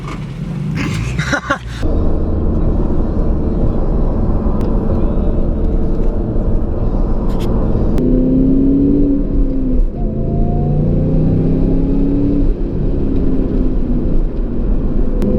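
SVT Cobra driving at steady speed, its engine drone joined partway through by a rising and falling supercharger-like whine, loud and close inside the cabin.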